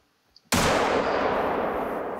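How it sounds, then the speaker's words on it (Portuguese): A single loud rifle shot from theHunter: Call of the Wild cracks suddenly after near silence, then rings out in a long, dense rumbling echo that fades slowly. "Mas acho que o disparo pegou bom"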